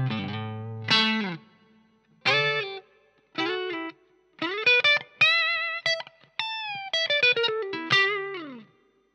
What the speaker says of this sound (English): let's try the reverb into the front of the amp.